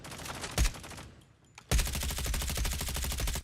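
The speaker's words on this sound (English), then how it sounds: "Long range shots with that AR." Assault rifle gunfire in Call of Duty: Mobile: a short burst, a single loud shot, a brief lull, then a long rapid sustained automatic burst, close and loud with no talk.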